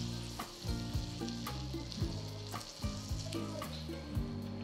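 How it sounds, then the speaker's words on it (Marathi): Steady frying sizzle as food roasts in a pan until crisp on its second side, with repeated clinks and scrapes of a utensil stirring or turning it, close and fairly quiet. "चला, आता ही दुसरी बाजू पण मस्त अशी खरपूस होईपर्यंत भाजून घ्यायची."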